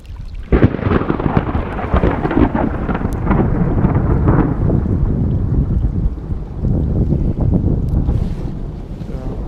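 A deep, continuous rumble of thunder rolls on for several seconds during rain at a lake, with wind buffeting the microphone throughout.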